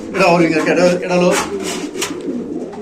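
Ringed Afsan grizzle beauty pigeons coo softly and repeatedly close by, the low throaty calls running under someone talking throughout.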